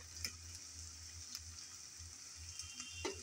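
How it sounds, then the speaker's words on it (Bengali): Ginger, garlic and onion frying in a pan for a fish curry with small pond fish, a faint steady sizzle with a few light stirring clicks, nearby and quiet, no voices. "কিছুক্ষণ আমি আদা রসুন পেঁয়াজ ভেজে নিলাম"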